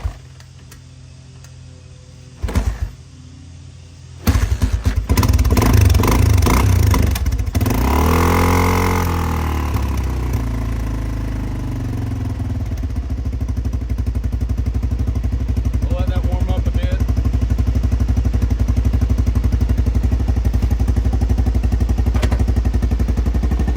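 A vintage 1985 Honda XR350R motorcycle idles steadily after a cold start with a low, even thumping rumble. A brief rise in revs comes near the start, and someone talks over it.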